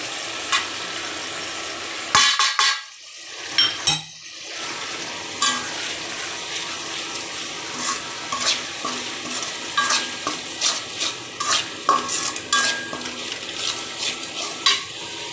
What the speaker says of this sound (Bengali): মশলাটা অলমোস্ট কষানো হয়ে গিয়েছে